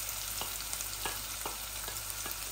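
Garam masala spices frying in a pan as a small chopped onion goes in, a dense continuous sizzle with regular soft scraping stir strokes, close and steady, no talking.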